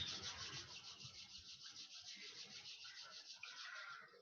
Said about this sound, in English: Slowly rub your hands